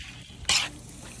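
Butter drops into a hot pan while Cajun pasta cooks, giving one brief, sharp sizzling hiss that quickly fades back to a quiet kitchen background.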